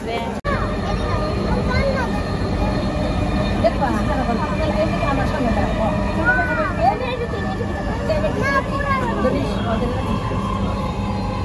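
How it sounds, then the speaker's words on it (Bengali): A crowded passenger train at boarding time, with a steady rumble of carriage noise under dense crowd babble and shouting that runs without a break. "ট্রেনে উঠতেছ"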